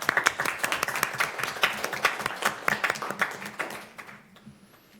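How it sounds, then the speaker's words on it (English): Sustained audience applause at a school committee meeting, dense steady clapping from a roomful of people that thins and fades out near the end. "I don't think a round of applause is enough."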